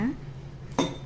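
A couple of brief metallic clinks, like hard bits dropping into a metal bowl, faint and close, one near the start and one near the end.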